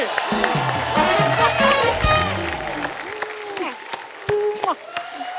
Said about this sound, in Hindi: जोरदार तालियां नीतू जी के लिए